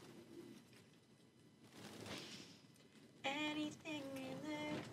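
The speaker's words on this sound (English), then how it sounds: "More pigeons." Pigeons in the video game Detroit: Become Human give soft throaty coos, faint at first, then two clearer, louder calls near the end over a hushed ambient bed.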